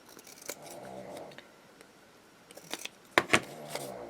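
Scissors snipping paper for a junk journal page, a few quiet scattered cuts followed by two or three sharper, closer snips near the end, with no talking.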